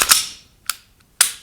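Dry-fire trigger breaks on a Nomad Defense Nomad9 pistol frame: three sharp, close mechanical clicks, the first a quick double snap, then a fainter reset click and a final crisp break, with silence between.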